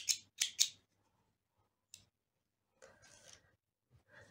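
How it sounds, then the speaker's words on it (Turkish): Scissors cut crochet yarn with three quick, close, crisp snips at the start, then a single snip about two seconds in. Softer handling rustles follow in a quiet room. "Burada ipimi kesiyorum."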